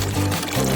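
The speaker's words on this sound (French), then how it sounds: "Nous allons remplir des bonbons Skittles avec cette eau." Water pours steadily into a container of Skittles candies, a close, continuous liquid splashing and trickling that runs for under a second with no one talking.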